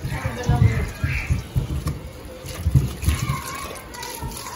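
Water pours into a pot of cooking seafood, a soft trickling splash running beneath people talking nearby.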